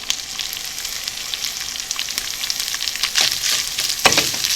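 Holy basil leaves stirred into chicken frying in a pan, a steady bright sizzle with scattered crackles and a few louder scraping stirs near the end, no voices.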